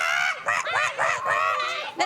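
Children playing at being chickens in a kitchen imitate clucking with their voices, making a quick string of loud, nasal, honking squawks in an uneven rhythm.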